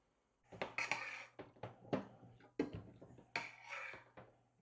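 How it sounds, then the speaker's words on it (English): Corn and beans are tipped into a pan for a vegan meal, giving a series of quiet, close clattering taps and scrapes in several short bursts with no talking. "into this pan, we're going to add half the corn and half of the beans and get these warming up"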